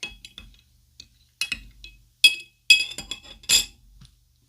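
A special spoon clinks against a glass while stirring a Captain Morgan Caribbean rum drink, bright ringing taps coming irregularly, some single and some in quick clusters, close and clear with silence between.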